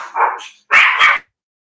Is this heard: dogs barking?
yes